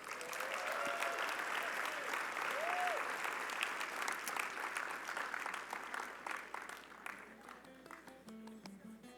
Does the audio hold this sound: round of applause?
yes